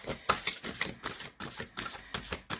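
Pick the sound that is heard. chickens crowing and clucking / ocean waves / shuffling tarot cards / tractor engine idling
shuffling tarot cards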